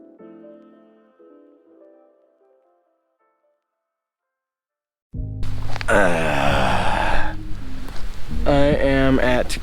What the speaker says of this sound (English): It's starting to rain harder.